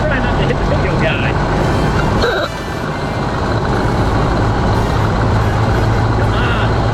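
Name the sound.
Ford Model A accelerating in vintage drag race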